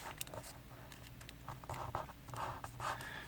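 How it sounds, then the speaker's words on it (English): Paper being creased and folded toward a center line while making an origami boomerang paper airplane, heard as soft, close crinkles and scratchy rubs in short irregular bursts over a quiet background. "I'll fold it to the center crease"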